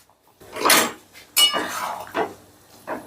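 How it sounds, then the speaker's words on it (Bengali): Chicken being stirred with cornflour in a metal pan for chili chicken, with several distinct scraping clinks of a spoon against the pan in uneven bursts, close by and without speech. "এবার এই কর্নফ্লাওয়ার সঙ্গেও চিকেনটা একটু ভালো করে মিশিয়ে নিচ্ছি"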